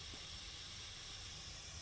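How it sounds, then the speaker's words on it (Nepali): A small gas heater burns inside a truck cab on a cold day, giving a steady, even hiss throughout with a low rumble underneath and no talk. "ट्रकभित्र टक्क ग्यास बाल्ने"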